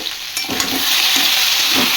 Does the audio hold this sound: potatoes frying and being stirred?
yes